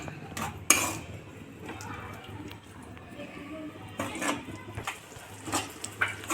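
Bottle gourd halwa being mixed in a pan over a low flame, a spoon clinking and scraping against the metal in irregular strokes, with faint speech at times.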